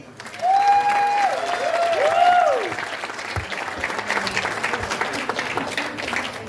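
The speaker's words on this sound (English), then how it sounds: "Big round of applause for Brendan." A crowd claps and cheers loudly, the applause swelling quickly and then settling into steady clapping, with whoops rising above it.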